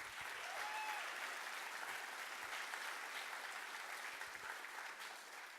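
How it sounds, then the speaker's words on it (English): Audience applause at the 2018 Sondheim Artscape Prize award ceremony in Baltimore, a steady wash of many hands clapping from a sizable crowd, heard at some distance and fairly faint, sustained evenly throughout without talk. "Now give them a round of applause."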